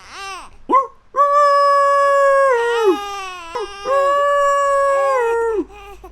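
A voice imitates a chicken with long, wavering, high-pitched crowing calls in several drawn-out bursts, loud and close.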